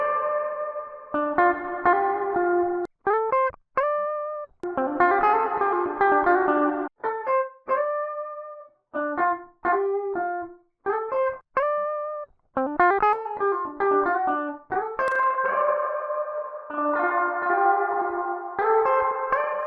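Bright synth melody with sustained tonal notes, processed through a free reverb plugin, drenched in spacious, shimmering reverb and echo tails that ring out between phrases; no voices.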